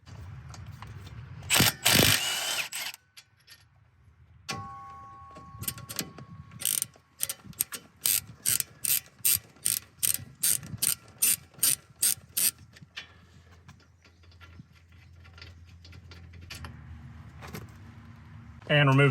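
A ratchet loosens 14 mm hub bolts on a Subaru Forester rear hub, in quick bursts of sharp clicking pawl strokes with pauses between, close up and fairly loud, ending with low mechanical rumbling.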